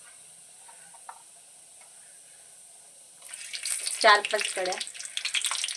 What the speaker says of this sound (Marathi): आता याला छान कडकडू देऊया आधी तेलात